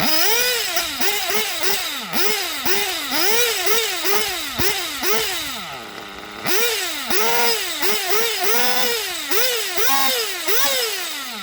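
A Traxxas STS D21B Dragon nitro RC engine runs in repeated rising and falling revving bursts, loud and close, with a brief dip in the middle before it picks up again.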